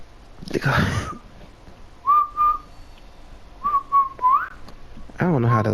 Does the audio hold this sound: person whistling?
yes